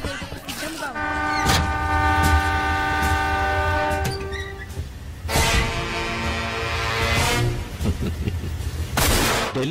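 Rajdhani Express from Secunderabad to New Delhi pulling out of a station platform: loud sustained horn blasts with rumbling wheels and carriages beneath, plus voices and station noise throughout.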